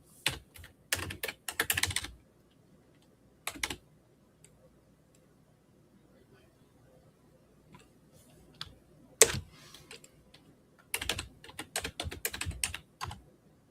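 Typing on a computer keyboard comes in quick bursts of close, crisp key clicks with pauses of near silence between them.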